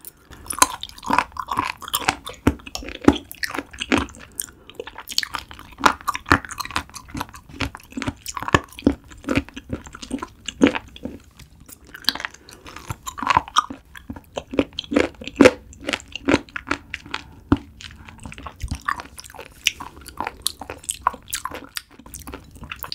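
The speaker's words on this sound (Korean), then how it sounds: "멍게가 아삭아삭해." Crunchy chewing of raw sea squirt at close range, a steady run of crisp, wet bites and mastication with no talking.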